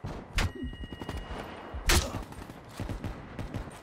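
Gunfire in a shooter video game: two sharp, loud bursts stand out over a busy background of scattered smaller shots and thumps.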